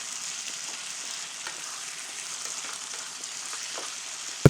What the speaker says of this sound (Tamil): அடுத்து ஒரு 3 மீடியம் சைஸ் தக்காளி இது மாதிரி நல்லா கட் பண்ணி ஆட் பண்ணி இதுவும் நல்லா வதக்கிக்கலாம்.